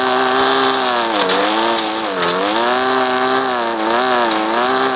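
A vehicle engine labors uphill, its strained drone rising and falling in pitch as it revs hard and close, loud and continuous with no talk.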